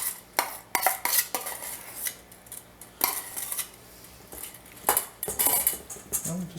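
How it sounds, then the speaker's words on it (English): A spoon scrapes and clinks in a bowl as crab salad is mixed with salad cream, giving a run of irregular, close scraping and knocking strokes with short pauses between them. "And we'll just give this a little mix."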